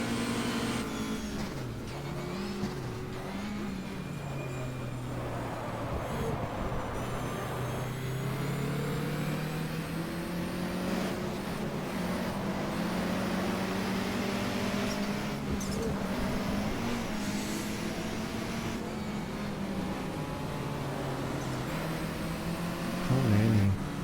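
Racing engines from a Toyota Supra and Nissan Skylines drone continuously in a GTR2 touring car race at Dijon, the pitch rising and falling through gear changes, loud and close with other cars audible around it.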